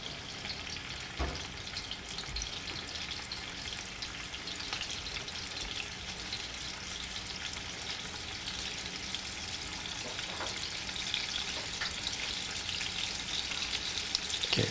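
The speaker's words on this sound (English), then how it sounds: "It's time to stir ingredients. Okay, stirring the ingredients" Ingredients are stirred in a warming frying pan, a continuous soft sizzle with occasional scraping clicks and light watery crackle, steady and close with no voices.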